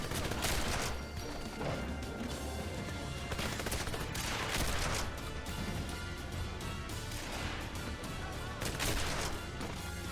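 Dense, chaotic shotgun fire in the video game 007 Legends, loud blasts overlapping with crashes and impacts in a continuous barrage.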